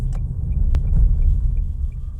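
Steady low interior rumble and hum inside a Nissan LEAF electric car as it accelerates uphill in normal mode, a smooth continuous drone with a faint high whine and one brief knock.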